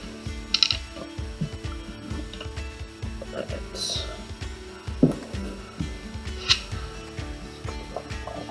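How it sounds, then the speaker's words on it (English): A card scrapes paint across a canvas in a painting project, making repeated short rasping strokes at a steady rhythm, close and fairly quiet, with a few sharper ticks. "So really I've got 4 different sides I can use as I scrape with this."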